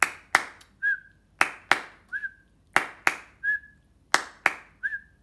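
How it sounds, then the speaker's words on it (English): An amateur whistler's short sound bite: a pair of sharp claps or taps followed by a brief rising whistled note, repeated four times in an even loop, close and clear. "the whistling isn't all that great"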